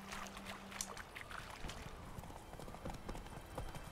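Horse hooves clip-clopping in The Witcher 3, a steady run of hoof beats at moderate distance with a brief tone at the start and faint game ambience underneath.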